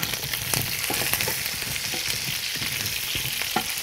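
Carrots and garlic frying in ghee or butter, a dense close sizzle with scattered crackles and pops and occasional stirring, steady throughout.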